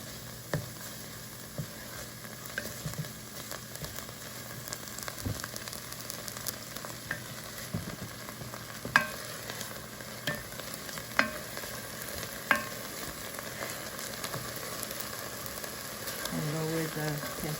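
Tomato paste sizzles and fries steadily in a pot on an electric stove, with scattered clicks and taps of stirring and no talking.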